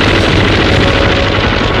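An MG-42 machine gun firing at about 1,500 rounds a minute, a loud continuous tearing roar with no gaps between shots, alone and with no voices.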